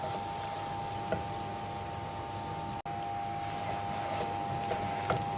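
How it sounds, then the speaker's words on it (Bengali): Onion paste frying in homemade mustard oil for shorshe ilish, a steady low sizzle with faint scattered crackles and one brief dropout midway. "কি সুন্দর পেঁয়াজগুলো ভাজা ভাজা হয়ে গেছে"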